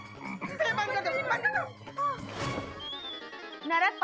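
Frogs croak in a busy chorus of repeated, throaty calls that overlap and come in bursts, fairly close and loud, with a few sharper squawks mixed in.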